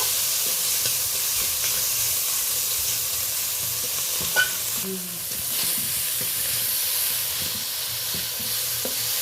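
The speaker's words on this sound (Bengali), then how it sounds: "ওই জন্য হালকা 2-4 বার আমি চিংড়িটা ভালো করে নেড়ে নেব" Small shrimp frying in a little oil give a constant close hiss and sizzle, broken by a few light clicks and scrapes of stirring, with no talk.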